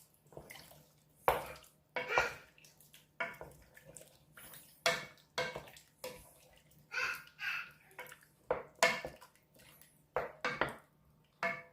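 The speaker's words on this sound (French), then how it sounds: "Maintenant, on verse le reste de la marinade avec les carottes." Marinade with carrots is poured into a pot for chicken bourguignon, producing repeated wet splashing pours and sloshes with clinks of the pot, coming in short bursts.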